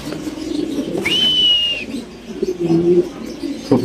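A cream bar female pigeon at a fancy pigeon farm, with a few low coos rising and falling, a sharp high whistle-like tone in between and rustling, loud and close.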